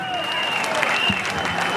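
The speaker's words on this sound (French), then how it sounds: "On applaudit très fort." A crowd at a political youth rally in a stadium in Port-Bouët, Côte d'Ivoire, applauds in a continuous wash of distant clapping, with a voice carrying over it through the brief stretch.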